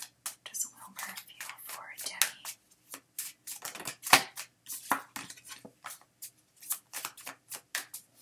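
Tarot cards shuffled by hand in a quiet room, a run of quick crisp riffles and slaps in uneven bursts, close and fairly soft, with no talking.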